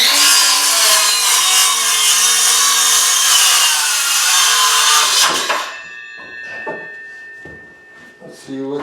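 A saw cuts through a wooden wall stud in one long, loud, continuous rasping run that stops abruptly, followed by softer knocks, handling sounds and brief talk.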